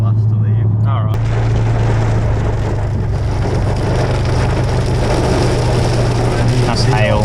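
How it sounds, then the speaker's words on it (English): Dense hail pelts a car's roof and body in a steady, loud drumming, with the engine's low hum underneath as the car sits on a car cruise. "That's hail."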